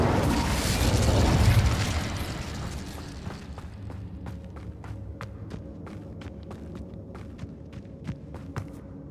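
An Incendio fire spell in Hogwarts Legacy bursts in a loud whooshing roar that swells and fades within two seconds, leaving a trail of sharp scattered clicks and small pops.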